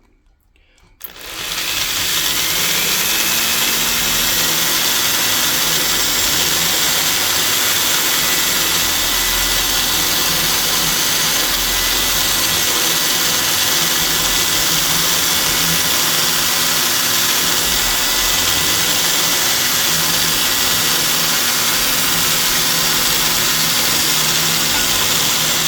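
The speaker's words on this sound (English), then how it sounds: "Yeah, that aluminum doesn't stand much chance with that 50 grit right there." A 50 grit sanding belt grinding into aluminum: a loud, continuous abrasive roar that spins up in the first couple of seconds and then holds steady and unbroken, close by, with no talk over it.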